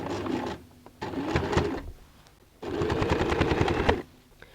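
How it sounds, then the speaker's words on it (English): A sewing machine runs in two bursts with a short pause between them, stitching an edge seam on a shopping bag made from recycled denim jeans. The motor is close and loud, with steady rapid needle clatter. "go and sew an edge stitch"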